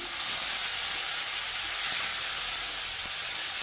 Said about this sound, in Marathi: हे सगळं तेलामध्ये छान परतून घ्यायचं आहे आपल्याला.